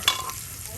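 A quick metallic clink of a utensil in a pan, followed by a soft, steady sizzle of fried fish and potatoes cooking on a stove.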